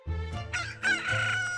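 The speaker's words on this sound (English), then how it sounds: "Look, all these chickens to hunt." A rooster crows loudly among chickens in The Great Ace Attorney 2: Resolve, a single drawn-out, rising and falling cock-a-doodle-doo with clucking hens behind it, close and prominent.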